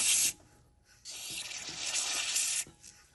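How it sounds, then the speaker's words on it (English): Brake cleaner sprayed from an aerosol can into the thermostat housing bolt hole of a 2002 Dodge Ram van: a close, loud hiss in two bursts, a short one and then a longer sustained one. "I'm gonna hit it with some brake cleaner."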